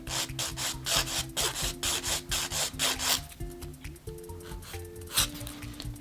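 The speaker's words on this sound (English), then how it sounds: "So I'm going ahead and using my Young Nails 180 grit, and we're just going to lightly shape our nails." A 180 grit Young Nails file lightly shapes acrylic nails in quick, close rhythmic rasping strokes, with a short pause before a few slower strokes.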